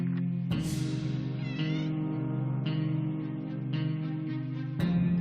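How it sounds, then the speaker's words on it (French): A cat meows in the survival video game 60 Seconds, one long drawn-out meow followed by shorter calls, loud and close against a steady musical backdrop, with no talk. "Oh, un chat."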